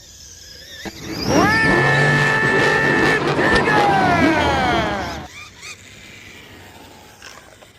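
A Losi Grave Digger V2 RC monster truck drives across grass on a fairway, its electric motor whining and rising in pitch in a loud burst of roughly four seconds before cutting off.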